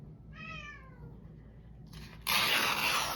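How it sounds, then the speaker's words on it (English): A black cat gives a single drawn-out meow near the start, fairly close and clear, followed by quiet room tone and then a sudden loud rushing noise. "I think that is the black cat."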